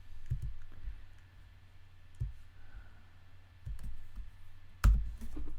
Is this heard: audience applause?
no